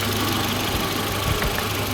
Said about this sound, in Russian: Прослушивание двигателя происходит прибором автостетоскоп.